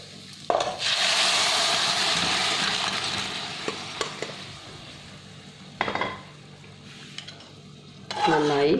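A spoon stirs duck curry with masala and onions in a pan for a Kerala-style home recipe, giving steady sizzling with scraping strokes and occasional clinks of metal on the pan.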